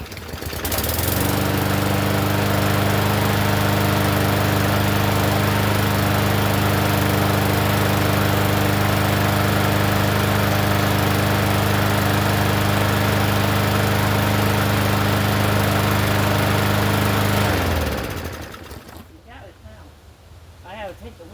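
A Craftsman M100 push lawn mower's small engine runs loud and steady at close range for about seventeen seconds, then cuts out and winds down, followed by quieter handling noises.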